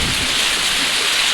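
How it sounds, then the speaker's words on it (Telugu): Heavy rain pours down steadily in Ramayampet, Medak district, a dense, loud, continuous hiss with no break. "మళ్ళీ వర్షం స్టార్ట్ అయింది"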